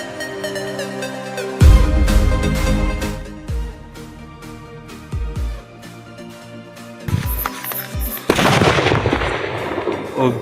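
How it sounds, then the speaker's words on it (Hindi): Mori Hydra Bomb firecrackers set off during Diwali cracker testing, a burst of loud explosive bangs and crackling with a sharp blast near the end, set against steady background music. "अब ये है हमारा मोरी का हाइड्रा बम"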